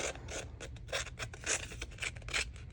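Scissor blades scrape and rasp along the edges of a photo to rough them up for a craft project, giving a quick run of close, dry scratching strokes with no talking.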